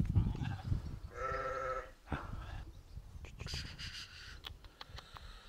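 Sheep in a flock of about thirty bleat several times at a livestock sale, the wavering calls mid-distance amid shuffling and some talk.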